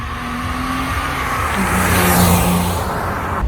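A BMW X3 E83 with a 2.5-litre inline-six engine and all-wheel drive hums steadily while driving, its tone rising and falling slightly as the motor pulls, with road noise underneath.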